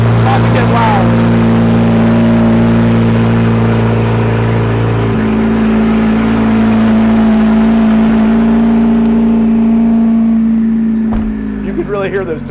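A custom Corvette's turbocharged engine revs loudly and close up at a car show, a rising roar that settles into a sustained high drone with turbo whine, then drops away near the end.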